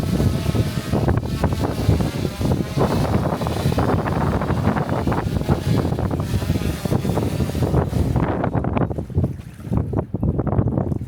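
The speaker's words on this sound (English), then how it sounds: "it's a pretty windy day out today." Strong wind buffets the microphone in loud, gusty roars during a drone rescue-jacket drop over water, easing briefly near the end, with water and boat noise mixed in.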